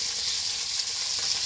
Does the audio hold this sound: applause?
no